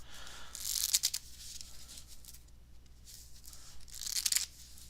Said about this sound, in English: then what we're going to do is shuffle.